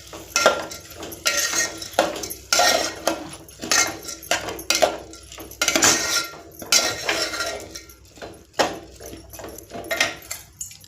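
Masale bhat mixed in a pot: a close, busy run of metal spoon scrapes and clinks against the pot, coming in steady irregular strokes throughout with brief gaps.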